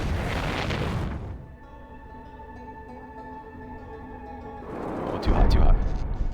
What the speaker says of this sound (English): Blow ourselves up on a different ship.